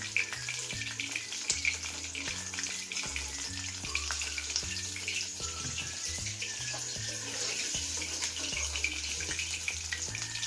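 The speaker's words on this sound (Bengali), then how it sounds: "এইভাবে আমি সব মাছগুলো একে একে ভেজে নেব।" Bombay duck (lote fish) frying in a pan of oil, a steady close sizzle running throughout, overlaid by a repeating low tonal pattern like background music.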